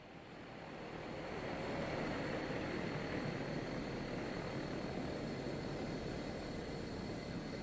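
Propeller engine of a Black Square Caravan just after landing in Microsoft Flight Simulator 2024, on a Papua New Guinea highland cargo run: a steady, broad, fairly quiet engine roar that swells in over the first two seconds, then holds evenly with no speech.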